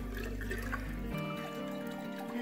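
Water running and trickling inside the tank of a dual flush toilet as it overflows, a steady close-up gush that shifts into a thinner, higher-pitched trickle partway through.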